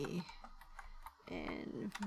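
Rapid keystrokes on a computer keyboard, typed in two short bursts with a brief pause between them, close and clear with no talking over them.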